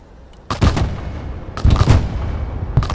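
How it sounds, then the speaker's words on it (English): A mortar fires in the military strategy game Broken Arrow: three heavy, punchy launches roughly a second apart, each a sharp crack followed by a decaying boom with a slight echo. "Mortar, ready to fire."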